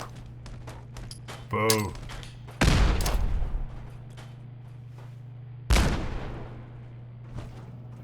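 Automated turret opening fire in the video game Fallout 4, short bursts of booming gunfire and blasts breaking out amid player chatter, with a steady low hum running underneath.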